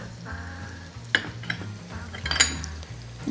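Cashews with turmeric and cumin powder sizzle in a hot pan while being stirred, a close, steady frying hiss broken by a few sharp metallic clinks of the spoon against the pan.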